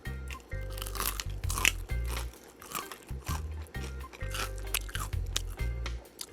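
Someone bites and chews a crunchy Jollibee fried chicken drumstick up close, a series of loud crisp crunches in an irregular chewing rhythm with short pauses between.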